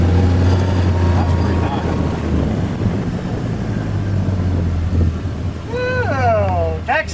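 A Kawasaki MULE PRO-FXT utility vehicle drives with a steady engine drone through a slalom run, loud and close, as people talk over it.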